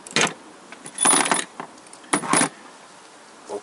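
Metal engine bolts pulled from the spark plug holes of a GM Ecotec engine clink and jangle in several short bursts, close and crisp, with quiet pauses between.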